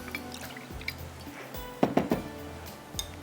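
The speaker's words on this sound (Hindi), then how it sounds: "तो इसमें थोड़ा सा पानी डाल देती हूँ यहाँ पर" Water is poured into a pot of rice seasoned with black pepper, salt and a chicken cube, making a brief cluster of close, splashy, liquid bursts against a quiet kitchen background.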